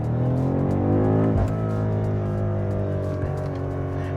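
A BMW M5 Competition in manual mode downshifting, its engine and exhaust roaring loud and steady, with a sharp revving blip midway as the gear drops and the harmonic tone shifts.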